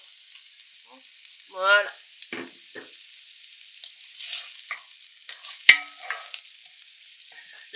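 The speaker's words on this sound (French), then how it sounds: "On va y mettre les carottes et on va laisser cuire." Shallots and carrots cooking in a pan for a bolognese sauce, heard as a faint, soft sizzle broken by a few short scraping and clattering stirs, with one brief spoken word.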